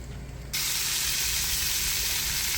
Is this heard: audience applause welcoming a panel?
no